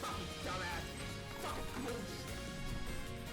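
Glass object smashing and breaking, a loud crash with scattered clinking debris running through a dense, continuous noisy background.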